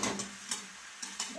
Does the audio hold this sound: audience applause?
no